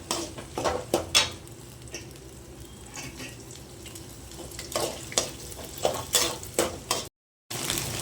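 Three eggs cracked into a pan fry for an egg and greens stir-fry, with an uneven crackle of sizzling broken by repeated scrapes and clinks of stirring, fairly close and moderate in level.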